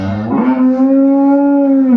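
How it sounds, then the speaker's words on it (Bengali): A five-day-old bull calf gives one steady, sustained moo, loud and close, lasting about two seconds. "এটা বাচ্চা ষাঁড় বাচ্চা ষাঁড় বাচ্চা"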